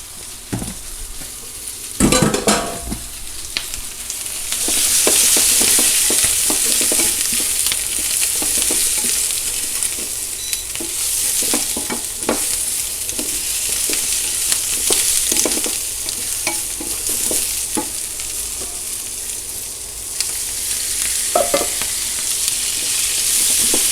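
Cabbage stir-frying in a hot pan with a steady, loud sizzle and hiss throughout, broken by repeated scraping and clattering stirs of a utensil against the pan.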